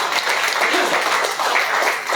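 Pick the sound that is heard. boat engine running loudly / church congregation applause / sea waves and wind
church congregation applause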